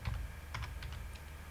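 Quick, quiet keystrokes on a computer keyboard while typing Python code, a short irregular run of soft clicks with no talk.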